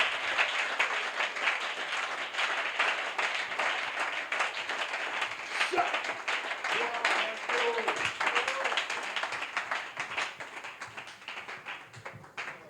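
Audience at a church convention clapping steadily in a dense, continuous wash of applause, with a voice speaking over it partway through.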